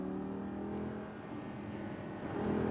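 An exotic sports car powers out of a corner on a Las Vegas race track, its engine droning steadily with a slight rise in revs toward the end, heard from inside the cabin at moderate level.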